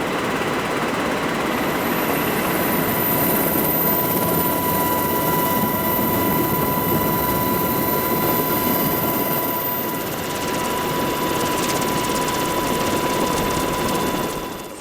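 Military helicopters at Camp Ripley, a training base, fly with a steady, loud rotor and turbine drone that holds without a break, with no talking.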